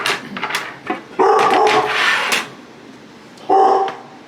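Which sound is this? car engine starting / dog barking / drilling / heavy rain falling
dog barking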